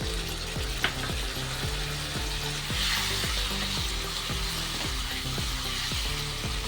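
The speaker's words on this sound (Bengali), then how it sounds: "জলটা দিয়ে বেশ ভালো করে মিশিয়ে নিয়েছি।" Tomato and potato curry with spinach and added water stirred in a pan, a continuous low bubbling simmer with rhythmic spoon strokes roughly every half second.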